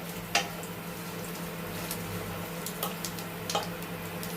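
Panch phoron five-spice mix frying in hot oil for a sweet-sour tomato pickle, giving a steady close sizzle broken by a few sharp crackles and pops, with no talking.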